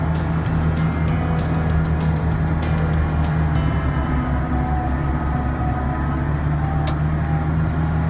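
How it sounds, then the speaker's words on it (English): A Kubota 8536R tractor pulling a center pivot mower through dense material, a loud continuous engine drone with a deep steady hum and mechanical whine from close by, with no one talking. "I'm mowing, and I'm straddling my windrow"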